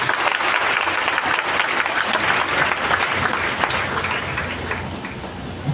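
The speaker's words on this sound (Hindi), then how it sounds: "एक बार फिर से एक जोरदार ताली होना चाहिए इनके लिए।" An audience applauds at a DXN mega event in Latehar, Jharkhand, with dense, steady clapping from a large crowd that carries on for several seconds.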